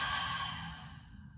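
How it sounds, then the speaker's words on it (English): A long, deep breath exhaled through the mouth during a guided meditation, one steady breathy rush that fades gently over about a second and a half, close and soft, with no talking. "And a deep exhale out the mouth."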